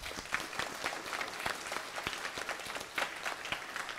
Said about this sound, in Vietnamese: bằng một tràng pháo tay thật lớn và nồng nhiệt ạ